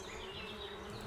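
Bees buzzing in a game scene, a faint, steady droning hum that runs unbroken through the short moment with no voices.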